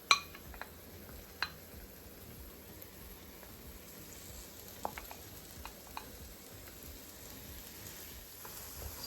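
Saltfish (salted cod) frying in a pan with a little curry powder, giving a steady soft sizzle with occasional sharp clicks and taps of utensils against the pan, no talking.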